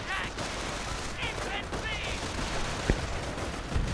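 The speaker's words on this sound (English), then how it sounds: "a strafing run, pinning and killing several" A strafing run strikes infantry in a real-time strategy game, with rapid bursts of gunfire and impact crackle under a continuous wash of battle noise. A few sharp reports stand out near the end.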